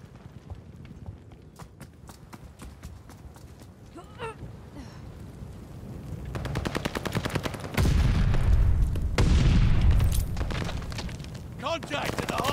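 Gunfire erupts around a hardpoint in a ranked video game match, starting as sparse shots and building to dense, loud automatic bursts and explosions, with voice callouts over it.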